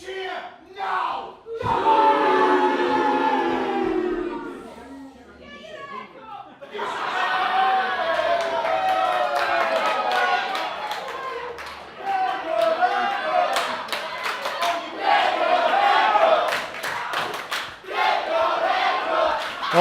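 Wrestling crowd at a live TGW show chanting loudly in a packed venue, rhythmic massed voices with bursts of cheering and laughter, a commentator talking over the top.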